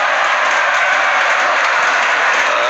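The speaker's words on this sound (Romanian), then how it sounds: "Se aplaudă și sunt urale în sală la fiecare gol care este adăugat în dreptul echipei pregătite de Florentin Pera" A steady, dense roar of applause and cheering from the crowd in a women's handball arena in Râmnicu Vâlcea after a goal, loud and continuous throughout.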